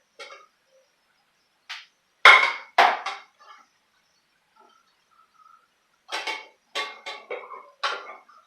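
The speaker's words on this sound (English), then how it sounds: "I'm going to add in some brown rice that I cooked earlier" Cooked brown rice is tipped into a pan, giving sparse sharp knocks and clatters of a utensil on the pan between stretches of silence, close and fairly loud.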